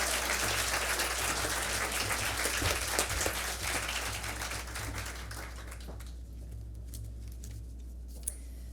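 An audience at a school community celebration breaks into dense, sustained applause that stays loud and even for several seconds, then thins out and fades to scattered claps near the end.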